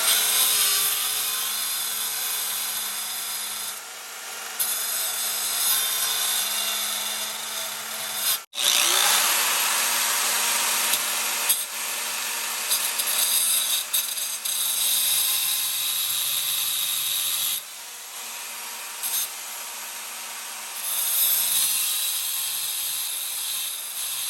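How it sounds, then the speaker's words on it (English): A cutting tool grinds steadily through the bearing keeper on a Ford 8-inch rear axle, a loud, continuous harsh whine that lasts the whole stretch, with one brief break and a few shifts in pitch and intensity. "I've got a different type of cutter here."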